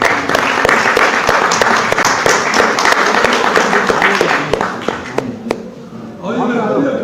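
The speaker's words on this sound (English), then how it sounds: "A round of applause, everyone." An audience at the Constitution Club of India applauds, a thick burst of clapping with a few sharp individual claps standing out as it dies down, after which a voice begins speaking.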